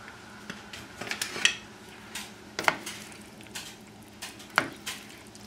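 Drained pasta being stirred into a chicken basil sauce in a pan, with soft wet squishing and scattered clinks of a utensil against the pan at irregular intervals, close and fairly quiet.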